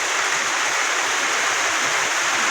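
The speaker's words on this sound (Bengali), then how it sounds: "এত পরিমাণ বৃষ্টি হইতেছে" Heavy rain pours steadily over a village home in Shibchar, Kaderpur Union, with gardens flooded, making a loud, dense, continuous hiss with no pauses or voices.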